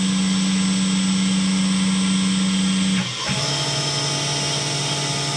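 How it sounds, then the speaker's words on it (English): A Tormach CNC mill spindle ramps up to 2000 RPM: a steady mechanical whine and hum shift pitch partway through and then settle at a new, higher running tone, with no talk over it. "After it retracts all the way, you'll hear the RPMs kick up to 2000."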